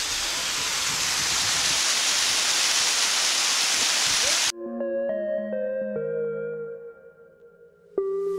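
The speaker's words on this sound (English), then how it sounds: "Waterfall!" A mountain waterfall roars in the Alps at the border between Germany and Austria: a loud, steady rushing wash of falling water for about four and a half seconds, which cuts off abruptly and is replaced by soft music.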